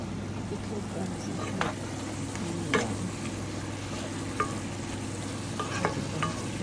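An egg fries in a pan beside a meat patty, giving a steady close sizzle with occasional spatula scrapes and clicks.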